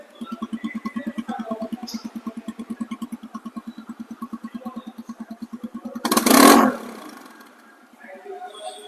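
A TVS Apache RTR 160 motorcycle engine idles with an even, close, pulsing thump, rises briefly into a loud rev burst near the end, and then settles again.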